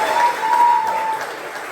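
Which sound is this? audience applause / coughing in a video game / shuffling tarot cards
audience applause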